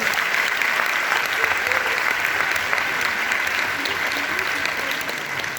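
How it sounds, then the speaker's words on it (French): A theatre audience at a stage show in a Perpignan convention hall applauds a volunteer called up on stage, a dense, steady wash of many hands clapping that holds evenly throughout at moderate loudness. "On peut l'applaudir s'il vous plaît, mesdames et messieurs"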